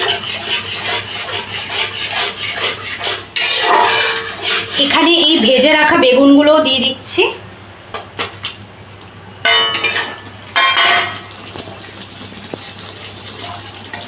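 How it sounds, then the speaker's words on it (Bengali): Eggplant being mixed with sour yogurt in a bowl for a Bengali begun bahar, giving close, steady rubbing and scraping strokes with a brief louder stretch of stirring in the middle and scattered later scrapes. "টক দই দিয়ে এটাকে একটু ভালো করে আমি মিশিয়ে নিচ্ছি"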